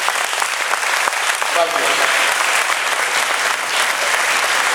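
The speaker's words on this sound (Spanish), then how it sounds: "Un aplauso por favor para UNEYES." Steady, loud audience applause fills a conference hall in Venezuela, continuous throughout, with a brief spoken word of thanks over it.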